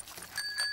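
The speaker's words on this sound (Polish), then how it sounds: "A to dzwonek." A small children's bicycle bell rings in a Peppa Pig cartoon, with a bright metallic ding that sustains briefly over soft background sound.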